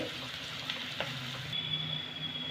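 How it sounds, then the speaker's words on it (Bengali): Chopped medium onions frying in a pan for a Bengali egg curry, giving a continuous close sizzle with an occasional stirring scrape and no talking. "পেঁয়াজটা আমি ভেজে নেব"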